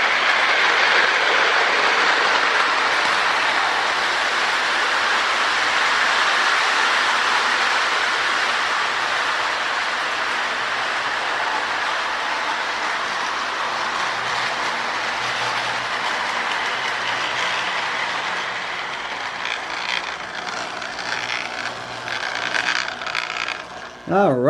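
A steady rumbling clatter of a K-Line model train running on track, continuous and fairly loud, with a brief scrape near the end.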